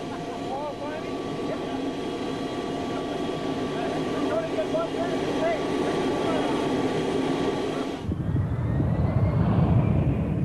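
A NASA ER-2, a U-2 high-altitude jet, roars steadily on takeoff and climb, the engine noise building, then shifting abruptly to a deeper rumble near the end; a narrator speaks over it.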